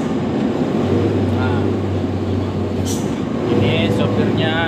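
A loaded truck carrying 38 tons descends a hill in low fourth gear on a road near Penajam Paser, its steady low engine drone droning on continuously and growing slightly louder toward the end.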